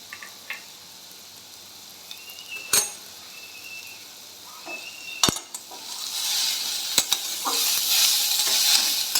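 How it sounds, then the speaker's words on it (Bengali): Chopped banana stem being stirred with turmeric and salt in a pan for a traditional Bengali vegetarian dish, with a steady sizzle and intermittent sharp scrapes of a spatula against the pan, growing a little louder toward the end. "লবণ ও হলুদ দিয়ে আবার এটাকে আমরা কিছুক্ষণ নাড়াচাড়া করবো, যতক্ষণ না থোড়টা নরম হয়ে যায়।"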